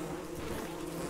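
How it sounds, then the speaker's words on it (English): Bees in the video game Don't Starve Together give a steady, faint insect buzz that holds evenly throughout, heard alone with no voices over it. "Oh, the bees make such sad little noises when they die."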